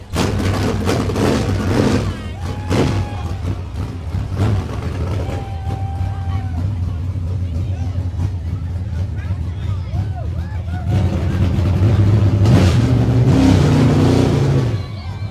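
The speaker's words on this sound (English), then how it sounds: "Making lots of noise with that race car" Race car engine revving loudly during the Alton Halloween street parade, surging at the start and again near the end amid crowd babble and nearby talking.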